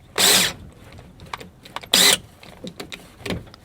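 Two short, loud whirring bursts of a drill biting into a metal rivet head on a GM truck door lock actuator, separated by quieter clicks and scraping.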